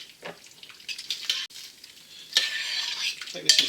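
Beef stroganoff with Dijon and wholegrain mustard being stirred in a pot, giving soft scraping and sloshing strokes over a gentle sizzle, close and fairly quiet, with no talking.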